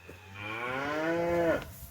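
A single cow on a farm pasture gives one long, rising, nasal moo lasting over a second, close and clear against a quiet outdoor background.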